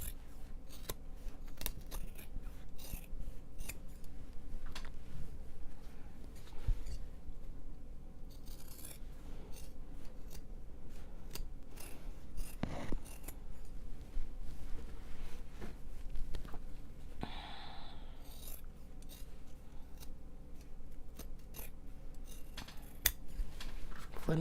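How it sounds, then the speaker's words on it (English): Steady, close snipping of shears through Japanese cotton fabric, repeated crisp cuts in a quiet room with no talking. "The soothing sound of shears is hopefully coming through."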